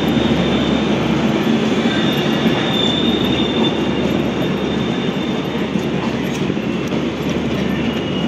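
Maitree Express train rolling past in Bangladesh during Cyclone Remal, a loud, steady roar of rail cars and wheels with a faint squeal, continuous and close throughout.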